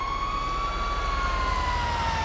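Fire truck siren in GTA 5, a steady wailing tone that slowly falls in pitch over a constant low rumble of engine and road noise, loud and continuous with no talking.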